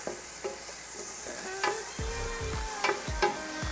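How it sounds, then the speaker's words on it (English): Onions sauté in hot oil for ginisang munggo, a close continuous sizzle with several scraping stirs of a utensil against the pan, no voices present. "I start the saute portion, put some oil. I start with our onions first."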